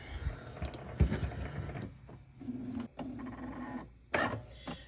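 A Cricut cutting machine whirs and clicks as it scans registration marks on a sticker sheet, with short mechanical bursts, a brief hum and motor pauses, close and alone.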